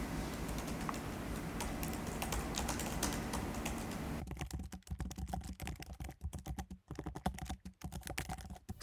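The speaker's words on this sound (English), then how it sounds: "It's a backlit Magic Keyboard and long-time MacBook users will be definitely content with it. Typing sound is okay." Rapid typing on the backlit Magic Keyboard of a MacBook Air M2, quiet and close, first muffled under background noise, then crisp distinct key clicks in an uneven, quick rhythm.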